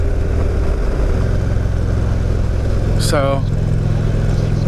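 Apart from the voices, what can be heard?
2016 Indian Roadmaster motorcycle engine at full throttle in 6th gear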